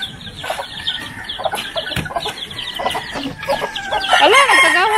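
A mother hen with chicks clucking close by in a busy run of short calls, building to a louder, drawn-out squawk near the end.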